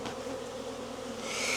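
Honeybees buzz steadily during a spring inspection of an insulated condensing hive, a continuous soft droning hum that swells slightly toward the end, close by and without talk.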